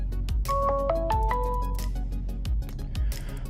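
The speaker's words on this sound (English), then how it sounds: "Somebody's calling me." A mobile phone chimes a short melodic ringtone for an incoming call, clear tonal notes over a low room hum with a few clicks.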